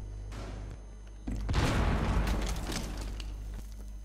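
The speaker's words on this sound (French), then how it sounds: "j'envoie une grenade avant" A grenade detonates in Rainbow Six Siege on the Bartlett University map, one sudden heavy boom followed by a rumbling, crackling tail that slowly fades, with a low steady hum beneath.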